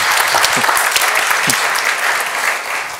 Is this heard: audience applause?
yes